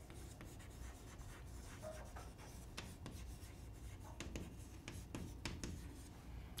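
Pen drawing a current-voltage characteristic graph by hand on paper, continuous scratchy strokes with short pauses, close and faint over a low background hum.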